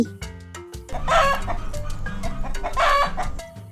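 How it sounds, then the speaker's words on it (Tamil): Chickens cluck in a farmyard, with two louder bursts of rapid clucking standing out from a busy background of other fowl calls and faint noises. "இது கோழி."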